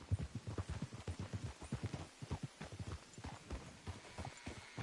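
Steady clip-clop of horse hooves on a hard surface in the video game Red Dead Redemption 2, a quick repeating rhythm of close, distinct footfalls with no talking.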